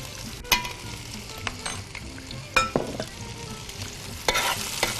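Two chopped medium onions sizzle in hot oil in a home kitchen pot, a steady close frying hiss broken by sharp scrapes and clinks of a stirring spoon, with no voices.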